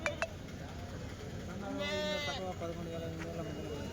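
A sheep gives one loud, wavering bleat in the middle, with quieter bleats and murmuring voices around it at the busy outdoor sheep and goat market in Kadiri.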